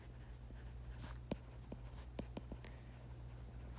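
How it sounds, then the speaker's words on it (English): Marker or pen writing a formula on a board in a statistics lecture, a run of short scratchy strokes and taps over a steady low hum, with no talking. "Let me write that a little bit nicer."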